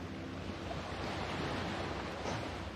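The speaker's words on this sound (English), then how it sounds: "soft sounds of the waves as they crash into shore" Ocean waves washing onto a beach shore, a continuous soft roar of surf with wind noise, steady and moderately distant, no voices.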